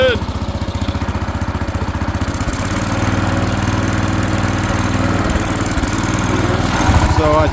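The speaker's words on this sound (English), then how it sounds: "now it's running good with the choke off" The engine of a 1970 garden tractor runs steadily with the choke off after a fuel filter problem, a loud, close, continuous mower-like putter that swells slightly, with a voice briefly audible over it.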